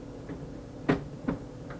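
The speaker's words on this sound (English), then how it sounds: "now it's asking us to open the door" The door of an HP L110 latex printer is opened with a couple of close, sharp clicks and knocks a fraction of a second apart, over a faint steady machine hum.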